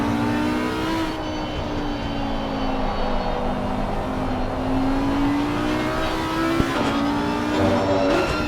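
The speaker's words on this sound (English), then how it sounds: "Palm Tree coming into the braking zone" Race car engines in the Assetto Corsa Competizione racing game, a loud sustained engine drone that shifts pitch as the cars brake into a corner, with a brief sharp click near the end.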